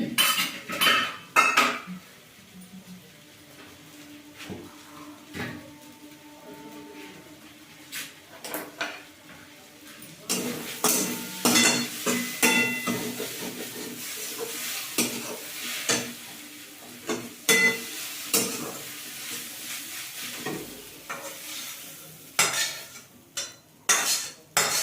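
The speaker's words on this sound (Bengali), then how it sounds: "আর একটু নেড়ে চেড়ে ভেজে নেবো" Pakora filling stirred and fried in a pan, with repeated metal utensil scrapes and clinks against the pan over a low steady sizzle, busier and louder in the second half, no talking.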